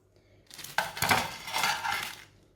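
Bread aloo tikki set down onto a plate, giving a quick clatter and clink of crockery and utensils, close and fairly loud, with no talking.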